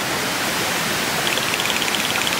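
A river stream flows in a broad, steady rush of water, close and fairly loud, with faint splashing droplets near the end and no talking.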